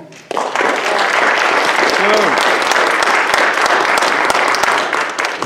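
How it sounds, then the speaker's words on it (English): A round of applause at a monthly school staff meeting as a staff member of the month steps forward, steady dense clapping from a room of people lasting several seconds, with voices mixed in. "Ms. Jones, round of applause"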